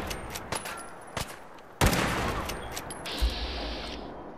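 Player's gunshots in Fallout 4, a few sharp separate shots early, then a louder blast at the midpoint trailing into a sustained noisy tail with another thump near the end.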